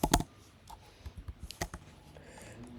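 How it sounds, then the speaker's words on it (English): Keys clicking on a computer keyboard during software setup, a short burst of quick taps followed by a few spaced, fairly close keystrokes, faint overall with no talking. "you have to type here assisted setup"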